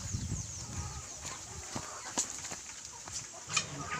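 Soft clucking from chickens nearby, a few scattered calls over a faint hiss of insects in the background.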